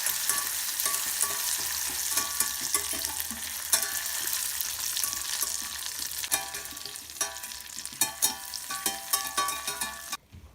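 A utensil stirs butter into hot, freshly made caramel with a steady bubbling sizzle. Quick scraping strokes grow more distinct toward the end, and the sound is close with no voices.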